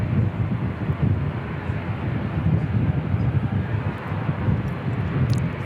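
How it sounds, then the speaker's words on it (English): A black-liveried ATR turboprop departing Christchurch Airport makes a steady, low, broad engine rumble at a distance, mixed with wind buffeting the microphone. "looks like it's the black liveried ATR heading out"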